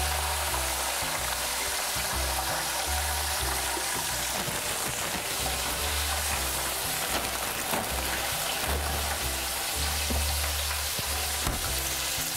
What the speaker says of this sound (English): And then we'll just fry these up until golden brown.